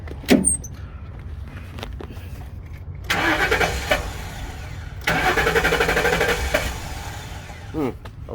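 The engine of an ex-police 2011 Ford Crown Victoria runs nearby with a low, uneven idle, rising into two louder revving bursts mid-clip alongside clicks and clatter.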